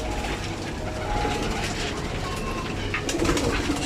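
Pigeons pecking at wheat and mixed feed, with rapid clattering taps and soft cooing mingled in a busy, close patter that continues throughout without pause.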